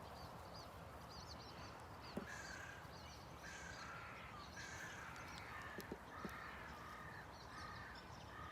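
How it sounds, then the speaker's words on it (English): Crows caw repeatedly in the distance on an outdoor morning, their calls spaced out over a steady wash of ambient noise. "You can hear the birds."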